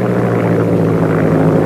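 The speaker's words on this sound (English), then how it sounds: "But pull the nose up, you'll hear the difference." A propeller plane's engine drones loudly and continuously as the plane climbs nose-up, a dense low hum that sounds laboured and strained, with no other sounds.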